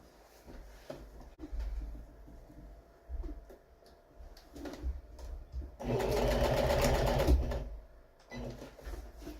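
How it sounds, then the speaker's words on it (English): A sewing machine stitching fabric for a couch cover, a close, quiet whir that hums in one sustained run of stitching between softer handling sounds. "Just go ahead and stitch side by side."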